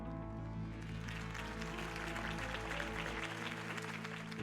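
A crowd applauds continuously in a Batman video game, under a steady musical drone and low hum, the clapping dense and even throughout.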